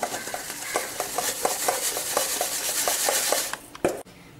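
Powdered Marie biscuits are rubbed and shaken through a kitchen sieve, making a soft, rhythmic scraping and tapping that repeats steadily at close range, alone, ending with a couple of sharper knocks.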